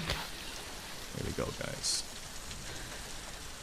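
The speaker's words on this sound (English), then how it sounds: "It's raining in the game." Steady rain in the video game The Last of Us Part II, a continuous soft hiss of rainfall with light patters. A player speaks briefly over it.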